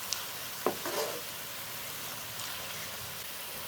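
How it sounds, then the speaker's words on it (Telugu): Cashew nuts frying with softened onions in a pan, giving a continuous gentle sizzle, with a couple of sharp stirring clinks near the start. "జీడిపప్పు కూడా 1 నిమిషం ఇలా వేయించుకుందాం."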